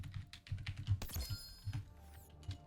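Arrow keys tapped on a computer keyboard, a quick run of light clicks at an irregular rhythm, close and fairly quiet, with a brief louder clatter midway.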